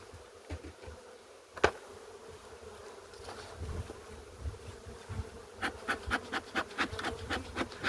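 Honeybees buzzing at an opened hive, a steady close drone with a sharp knock near the start and rhythmic rustling pulses toward the end.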